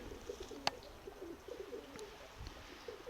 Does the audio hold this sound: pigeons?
yes